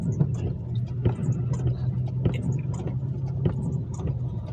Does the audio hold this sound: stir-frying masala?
no